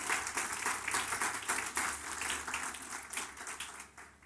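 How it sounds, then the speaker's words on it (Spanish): A church congregation applauds together in a steady, dense burst of clapping that fills the room at close range and holds strong throughout, then eases slightly toward the end. "Démosle un aplauso al Señor."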